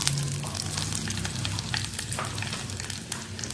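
Eight cloves of chopped garlic and a piece of cut ginger fry in hot oil in a pan for a kurma, giving a steady, dense, close sizzle with no talking.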